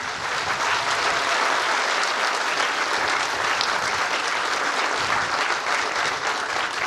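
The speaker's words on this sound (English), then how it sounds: "request that we just give them a big round of applause" Sustained, dense clapping from a large crowd at a police academy passing-out parade for graduating trainees, loud and steady throughout without a break.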